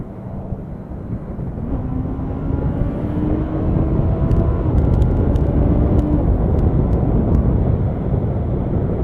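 Honda CBR650R motorcycle engine under way, a steady loud drone with rising and falling pitch as the bike accelerates, wind rush over it and some faint ticking near the middle.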